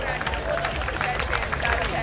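An audience at a live concert in Vác claps and cheers in a dense, steady patter of applause lasting a couple of seconds, with crowd voices mixed in.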